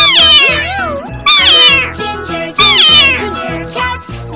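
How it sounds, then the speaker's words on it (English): A cat meows loudly and repeatedly, several drawn-out, wavering cries in quick succession over a steady rhythmic backing. "C for cat."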